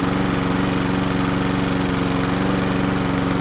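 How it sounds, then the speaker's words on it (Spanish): A string trimmer cuts grass just outside an apartment, its small engine droning steadily and fairly loud throughout with a constant buzzing rhythm and no talking. "tenía la bulla del señor de la guadaña que cortaba el césped afuera del apartamento"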